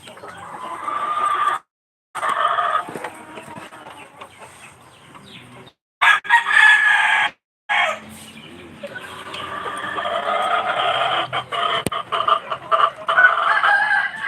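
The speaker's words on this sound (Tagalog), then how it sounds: "Ngayon, madaming manok." A flock of chickens clucks continuously nearby while a rooster crows, with the calls rising and falling and a couple of brief pauses.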